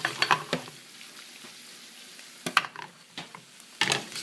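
Onions and meat frying in a green pan, with a soft steady sizzle under several sharp clatters of stirring or a shaken pan, close and fairly quiet.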